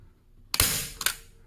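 A staple gun fires twice, about half a second apart, driving staples through canvas into a wooden stretcher frame. Both are sharp, close, fairly loud snaps with quick decay and no talk.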